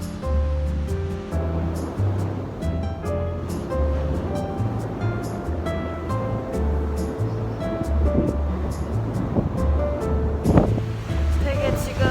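Strong wind gusting at a high, exposed spot in Busan, roaring steadily and loudly into the microphone throughout, with a person talking over it.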